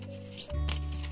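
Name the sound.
tarot cards being divided into piles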